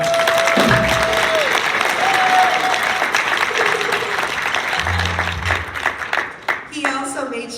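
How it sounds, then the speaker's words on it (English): An audience claps steadily for a trombone player, a dense wash of applause that carries through the whole stretch while a voice and some tonal sounds rise above it. "So can we give him a round of applause?"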